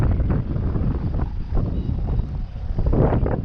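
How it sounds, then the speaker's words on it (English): Strong gusting wind buffets a DJI Phantom 3 Standard drone and the microphone outdoors, a loud continuous low rumble with no talk. "High wind test."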